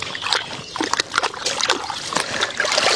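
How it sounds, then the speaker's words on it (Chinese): Beef tripe and red sausage being rinsed and handled in water in a kitchen, giving close, irregular splashes and sloshing trickles over a few seconds with no talk. "金钱肚是干净的，再给它洗一下，红肠也洗一下"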